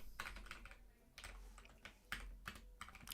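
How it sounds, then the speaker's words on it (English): Rapid bursts of typing on a computer keyboard while coding a SwiftUI app, close and crisp, with short pauses between clusters of keystrokes. "I'll go do some typing."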